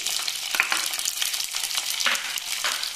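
Small onions and about ten to fifteen garlic cloves sizzling in a pan for a Tamil-style tamarind curry with turkey berries, a loud continuous crackling fry with bursts of spattering and stirring, close up and without speech.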